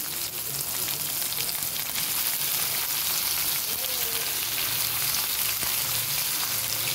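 Tomato sizzling and frying in reddened ginger-garlic paste tempering in a pan, a steady dense crackle that runs without a break at close range, with no talk over it.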